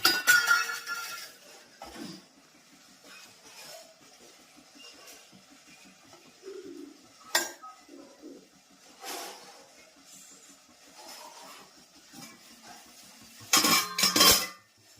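Dishes and cutlery clink and clatter as plates of khaman are set out for serving, with scattered close knocks and scrapes and a louder burst of clatter near the end.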